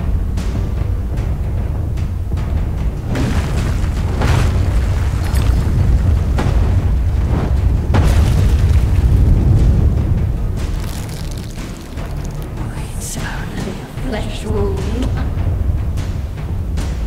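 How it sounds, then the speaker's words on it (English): In the Alice: Madness Returns video game, a cannon fires and explodes in a run of deep booms and bursts amid rumbling game noise, loud and sustained throughout. "Gotta kill that stupid cannon that's shooting at me."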